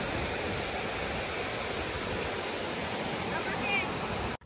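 The Krang Suri waterfall in Meghalaya pours in a constant, dense rush of falling water, loud and unbroken throughout, ending abruptly.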